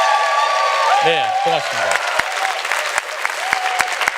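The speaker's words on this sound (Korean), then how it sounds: "박수 한번 치셔야 돼요." Applause from a lecture audience runs steadily throughout, fairly loud and dense, while someone briefly speaks over it near the start.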